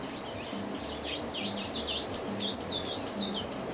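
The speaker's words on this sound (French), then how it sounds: "cet oiseau bleu écoute et répond aux chants venus de la forêt" Blue bird singing in an Ecuadorian forest: a rapid string of bright, sweeping chirps and whistles in a continuous flurry, with a low hum running underneath.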